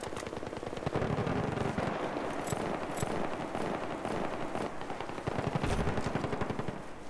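Weapon fire in Battlefield 3 multiplayer, loud rattling automatic bursts that run almost continuously, with sharper cracks and heavier thuds layered over a dense battle din.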